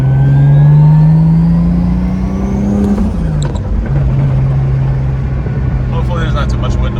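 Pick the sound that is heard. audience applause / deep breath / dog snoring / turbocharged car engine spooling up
turbocharged car engine spooling up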